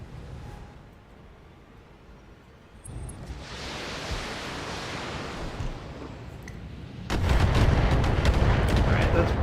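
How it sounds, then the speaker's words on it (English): Missile carrier unloading a missile volley in the Battletech game, a broad roaring rush of launches that swells and then bursts louder into a dense, sustained barrage near the end. "that's probably a missile carrier that just shot there, given the missile volume"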